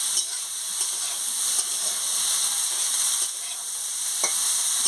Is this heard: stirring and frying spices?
yes